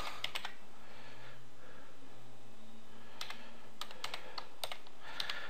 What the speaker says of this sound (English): I will type it now.